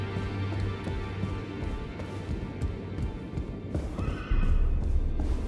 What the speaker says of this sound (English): That's the horses from down the bottom.